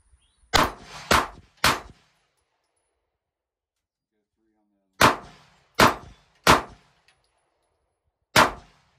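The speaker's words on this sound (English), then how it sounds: "Let's go three fast rounds on that white plate." Canik pistol fired at a steel plate: three quick sharp shots with ringing clangs, then after a pause another quick string of three, and a final single shot, loud and close in otherwise quiet surroundings.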